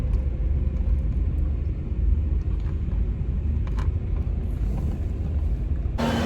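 Car pulling away with a family riding inside, heard from the cabin as a low, steady road and engine rumble with some wind buffeting, ending in a brief burst of louder noise.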